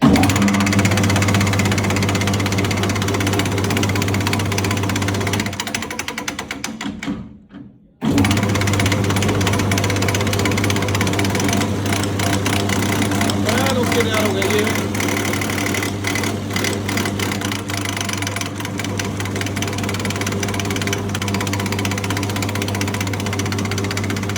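A Farmtrac 60 tractor diesel engine after a fuel pump overhaul, running loud and close with a steady rattling idle, then dropping out briefly and picking back up into a continuous even chug.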